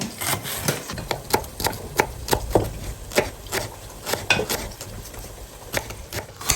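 Knife chopping white onions and vegetables on a board for a Tamil eggplant dish, a quick irregular series of sharp near taps with a faint kitchen background and no talk.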